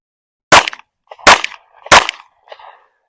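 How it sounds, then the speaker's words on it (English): Three sharp pistol shots fired while testing an optic, spaced evenly about seven tenths of a second apart, loud and close, with faint echoes trailing each one. "let's fire a few shots and get on with this review."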